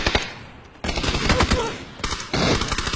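Rapid automatic gunfire from a video game, with bursts of shots that come and go across a few seconds, loud and close, with no speech over them.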